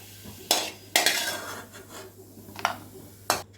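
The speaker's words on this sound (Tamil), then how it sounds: "எல்லாத்தையும் பிளேட்டில் மாற்றிப்போம்" Cooked asafoetida and ginger are scraped and tipped from a pan onto a plate. Four or five sharp metallic clinks and scrapes sound up close, separated by short quiet gaps.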